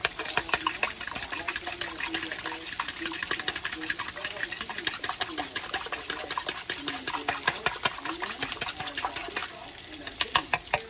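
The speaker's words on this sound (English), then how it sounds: "I'm gonna mix my eggs" Eggs being beaten in a bowl, a rapid, steady rhythmic clicking and whisking that runs throughout, close and fairly loud, with a voice speaking over part of it.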